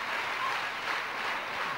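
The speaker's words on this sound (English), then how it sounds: "Fine applause for Manjrekar." Cricket stadium crowd applauding batsman Manjrekar during a 1991-92 India v Pakistan one-day international in Sharjah, a distant, steady wash of clapping and crowd noise, fairly faint and brief.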